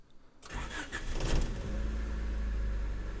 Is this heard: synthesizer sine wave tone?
no